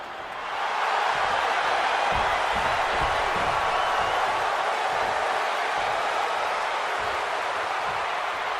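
A capacity arena crowd roars in the WWE 2K wrestling video game for a Seth Rollins versus CM Punk match, swelling quickly into a loud, sustained wall of cheering with low thumps beneath.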